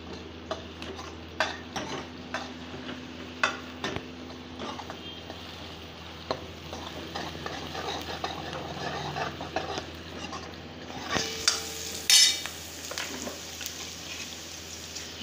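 Coarsely chopped onion and garlic cook in a pan for dal khichdi, a soft, low sizzle broken by scattered ticks and scrapes of stirring, quiet throughout with a louder clatter near the end.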